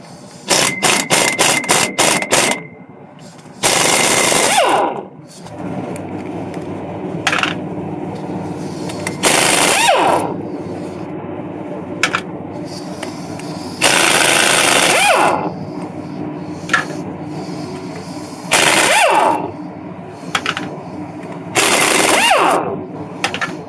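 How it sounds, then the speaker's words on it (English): Loud rapid bursts from an impact or air tool, with a few stretches of steady mechanical rattling, as an 18mm socket loosens the rear axle bolts on a Ford F-250 during a rear axle seal replacement. The bursts repeat several times, close to the microphone. "take that same 18mm and take all these bolts loose"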